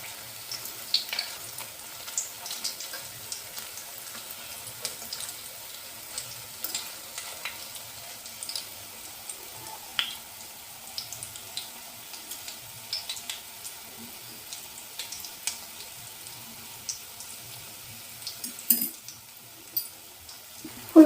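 Cauliflower pakoras frying in oil, a steady soft sizzle with scattered crackles and pops, a few sharper ticks near the end, no voices.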